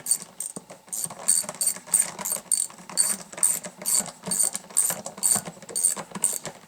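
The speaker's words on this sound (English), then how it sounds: "Found 8mm nut driver. Works real good for putting these screws in here." An 8mm nut driver drives screws into a Wildgame Innovations Monsta D deer feeder, giving a close, repetitive ratcheting click in rhythmic pulses that continue steadily throughout.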